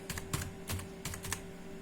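Typing on a computer keyboard during a VB.net programming lesson: several quick, soft key clicks in irregular bursts over a steady low electrical hum, with no talking.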